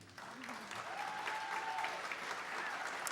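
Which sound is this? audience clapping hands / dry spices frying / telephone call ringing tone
audience clapping hands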